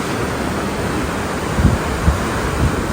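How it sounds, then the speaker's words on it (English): Strong wind at a cruise ship's stern rushes steadily past with low buffeting gusts and a broad hiss, open air at sea, with no voices. "It's very windy."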